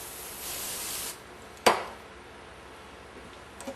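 Solvent is sprayed onto a part being rebuilt, a soft hiss lasting about a second, followed by a sharp blast of compressed air blowing it off that fades quickly, with a faint click near the end.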